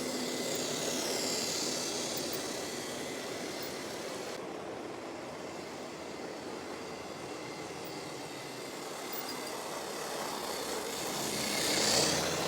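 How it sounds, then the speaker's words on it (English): Continuous steady motor hum and whir of a Lima Class 59 model diesel locomotive running nearby, with a faint rise in pitch toward the end. "she's not the quietest runners, but it's a good noise. I do like it. It's a purr of a diesel engine."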